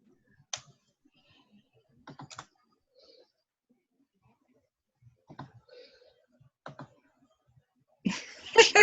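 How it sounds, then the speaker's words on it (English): Sparse computer mouse clicks, with possible keyboard typing, come in a few faint, isolated bursts of clicks separated by quiet. A louder, denser clatter arrives near the end, heard during a team video call. "I keep clicking and nothing happens."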